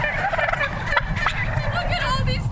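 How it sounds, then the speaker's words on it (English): A big flock of more than 200 white broad-breasted turkeys gobbles in a dense, continuous chorus, loud and close, with overlapping calls filling the whole stretch. "never ever in my wildest dreams did I think I'd ever encounter over 200 turkeys"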